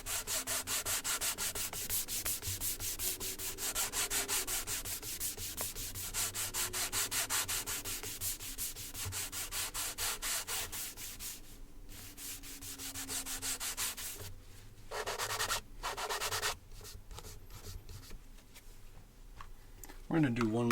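A cloth rubs Saphir Pâté de Luxe mahogany wax onto a leather shoe during a high-gloss shine, making close, steady, rhythmic scrubbing strokes with pauses near the end.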